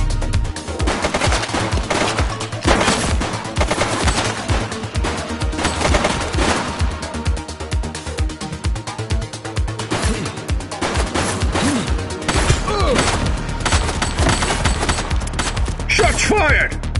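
Rapid bursts of gunfire fill a police shootout in the video game The Precinct, shots crackling in dense volleys throughout with faint voices beneath.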